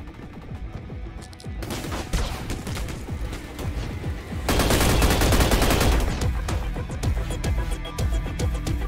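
Rapid bursts of gunfire from the Roblox game Energy Assault rattle on continuously, with dense overlapping shots that grow heavier and louder halfway through.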